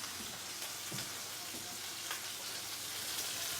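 Shallot and garlic frying in a pan on a stove, a soft continuous sizzle with a few light clicks and stirring sounds, fairly quiet and without talk.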